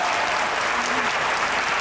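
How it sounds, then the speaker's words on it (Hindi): A studio audience at a comedy talk show claps steadily and densely for a couple of seconds, a bright even wash of applause with no pauses. "तालियां बजाएं इस बार।"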